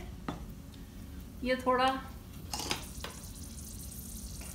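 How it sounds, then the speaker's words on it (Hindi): Garam masala sautéing in a pan for dhaba-style fried keema gives a faint, low sizzle, while someone briefly speaks over it. "गरम मसाला है वो मैं डाल रही हूँ। इसको हम थोड़ा सा सॉटे करेंगे"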